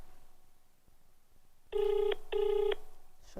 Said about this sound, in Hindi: श्वेतिमा को आई एम कॉलिंग।